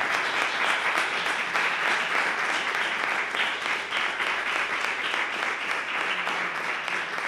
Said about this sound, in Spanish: damos otro aplauso a Agustín